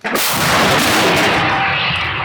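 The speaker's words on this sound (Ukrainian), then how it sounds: "Постріл!" A single powerful artillery blast booms out near Bakhmut, its roar rolling on and slowly fading.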